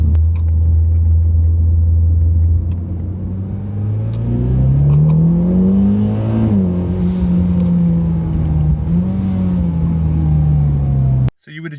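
A Mitsubishi Lancer Evolution X engine climbs through a second-gear pull, its rising rumble and exhaust tone loud and close from the cabin. A gear change interrupts the climb before it continues, and the sound cuts off abruptly at the end.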